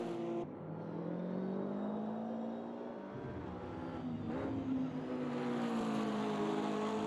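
Racing cars, a BMW and Mercedes, in a sim racing game at Spa, with a steady engine drone holding through a corner and rising slightly as revs climb, continuous and fairly close, no talk.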